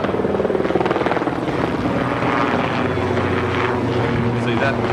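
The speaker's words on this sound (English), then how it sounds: "See that sound of that helicopter can send me into a fit of terror" A helicopter flies nearby, its rotor thudding rhythmically under a loud engine drone that shifts slightly as it passes.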